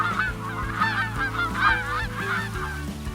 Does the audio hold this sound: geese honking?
yes